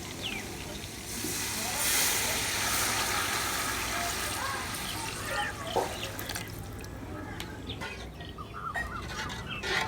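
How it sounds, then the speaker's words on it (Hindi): Water pours into a cooking pot of beef pulao, a continuous splashing hiss up close, with faint birdsong and scattered clinks in the background. "यखनी थोड़ी सी कम थी, इसलिए मैंने उसकी जगह पानी ही ऐड कर दिया है"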